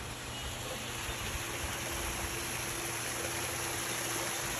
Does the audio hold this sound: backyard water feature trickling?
yes